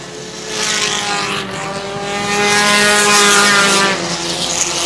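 Dirt modified race cars roar past at Airborne Speedway in Plattsburgh, NY, a loud rising-and-falling engine whine that swells as the pack passes close, then trails off.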